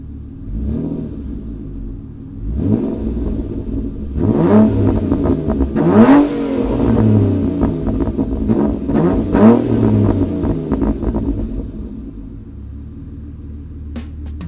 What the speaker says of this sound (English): the stunning Alfa V6 engine is close to the top of the list of greatest sounding engines ever built